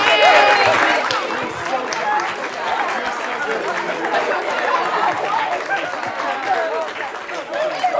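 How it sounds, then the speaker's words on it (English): An audience at a mock trial tournament gives both teams a round of applause, scattered clapping mixed with lively crowd chatter and voices throughout. "If we could please give both teams a round of applause."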